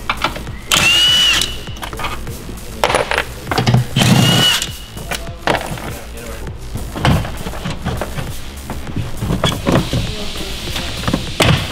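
Bolts being loosened with a 10 mm socket on a Tesla during suspension kit installation, giving repeated bursts of tool noise and metallic clicks with knocks and rattles, fairly close and steady, with no talking.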